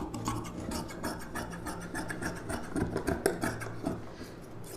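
Scissors cut silk saree fabric for a U-neck blouse with a steady, close rasping and scraping of blades through cloth, plus small crisp snips building toward the end, and no voice.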